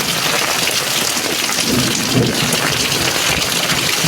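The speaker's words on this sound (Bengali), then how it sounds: "এত পরিমাণে জল হচ্ছে, বান চলে এসছে ভাই, বা কি হারে জল হচ্ছে।" Heavy rain pouring down during a thunderstorm, a dense, loud and constant hiss of water with low thunder rumbling underneath, no voices.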